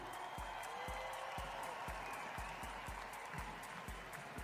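A floorball final crowd cheering and applauding its Kalmarsund silver medallists, heard as a constant roar of distant crowd noise with a steady rhythm of thumping drumbeats beneath it.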